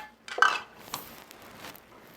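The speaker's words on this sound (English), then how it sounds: "Let me stir my potatoes." Potatoes being stirred in a pot: a loud clattering scrape of a utensil against metal near the start, then softer knocks and scrapes trailing off, close and alone.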